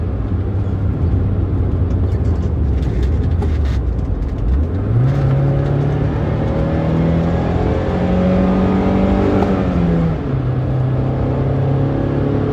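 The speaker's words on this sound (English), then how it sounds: "So how about I downshift real quick?" A car's engine rises close up as it revs, dips and surges again through a downshift, then climbs steadily in pitch while accelerating before easing off, loud and continuous with no talk.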